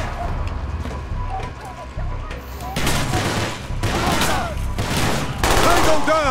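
Rapid gunfire bursts in Call of Duty: Black Ops, loud crackling volleys firing in several separated bursts, with a player's voice talking over the game's background noise.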